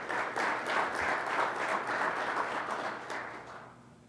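Audience applause at an Arlington County Fire Department recruit ceremony, a steady crowd clapping that holds for about three seconds and then fades out, with no talking over it.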